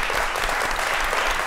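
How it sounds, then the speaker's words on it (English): Sustained applause from an art fair audience at a talk on style, a dense, even wash of many hands clapping at close range with no gaps, filling the whole short stretch. "can we have a massive round of applause for Megan?"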